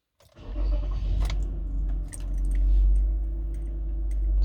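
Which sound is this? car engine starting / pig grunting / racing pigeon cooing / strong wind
car engine starting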